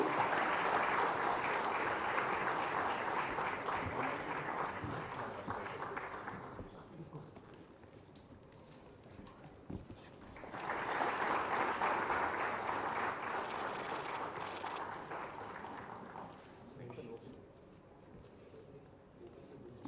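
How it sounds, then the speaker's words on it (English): Audience applause at the ISBACON 2024 valedictory function in Tarnaka, Hyderabad, swelling twice as a dense, sustained wash of many hands, easing off in between, with a speaker's voice faintly beneath. "Can we have a big round of applause once again?"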